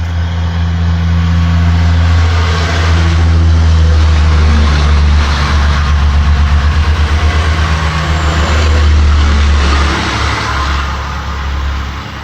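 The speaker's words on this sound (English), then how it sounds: "Couple Michigan hopper trucks pulling a end dump" Michigan hopper trucks pulling an end dump trailer rumble past with a loud, steady low diesel drone that swells and holds, then eases off near the end.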